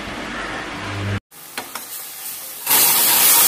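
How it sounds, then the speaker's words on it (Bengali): Tomato added to a pan of spices being sautéed in a home kitchen, producing a hissing, steamy sizzle that cuts out briefly, then resumes louder and brighter after a couple of light knocks. "জাস্ট টমেটো দিয়ে মশলাগুলো একটু কষিয়ে নিচ্ছি"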